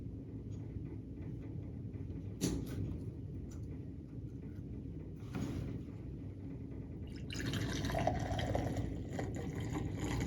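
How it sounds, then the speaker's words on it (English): Rubbing alcohol poured into a container for a colour-density layering experiment: after a few light taps and clinks, a steady close trickle of liquid begins and runs on to the end, with no talking. "I'm going to pour some rubbing alcohol into the other one"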